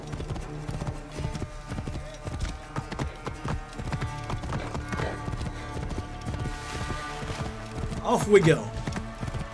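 A horse's hooves clip-clop in a steady walking rhythm in Assassin's Creed Origins, with a brief whinny near the end, under a man's speech and background game music.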